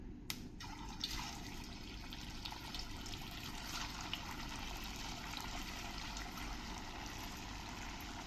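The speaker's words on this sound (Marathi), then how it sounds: "आपण वडे तळून घेऊया." Sabudana vadas fry in hot oil over medium heat, giving a continuous soft sizzle and bubbling hiss that stays steady and close with no talk over it.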